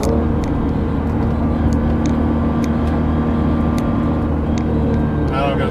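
Nissan GT-R R35 with tuned transmission cruising in sixth gear in manual R mode, a loud, steady engine and road drone heard from inside the cabin, with a voice talking over it.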